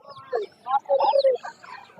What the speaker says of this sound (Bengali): এখন দেখতেছেন বিশাল বড় একটা টার্কি মুরগি